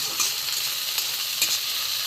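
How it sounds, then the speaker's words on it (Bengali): Prawns frying in a pan make a bright, constant sizzle with a few soft scraping stirs, up close and without talk. "একটু লাল করে ভেজে নেবো"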